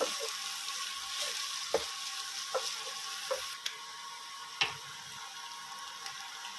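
Egg curry masala with kasuri methi is stirred in a pan over a soft, continuous sizzle. Light spatula taps and scrapes recur every second or so, and no one speaks.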